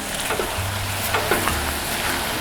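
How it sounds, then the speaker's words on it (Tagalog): Pork frying in a hot pan with pepper, a steady close sizzle with a few soft stirring scrapes and clinks, no talking. "We'll cook the pork some more."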